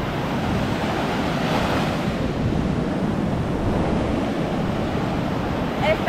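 Strong waves pound a beach at Choroní, Venezuela, a dense, continuous roar of surf and wind, loud and close with no talk.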